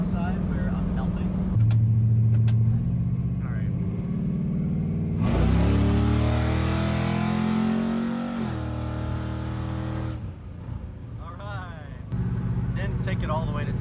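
An LS-swapped 1979 Camaro engine revs hard while driving, climbing steeply through the gears with a loud rising roar, then dropping back to a steady drone, with someone speaking over it.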